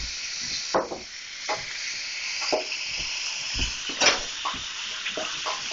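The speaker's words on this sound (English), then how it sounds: "The grease was hot enough so you can hear that sizzle." Steady crackling sizzle of potatoes frying in hot grease, with occasional soft stirring scrapes, fairly quiet and continuous.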